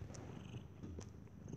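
A house cat purrs close by in a low, steady rumble that runs unbroken, with a few faint clicks above it and no voices.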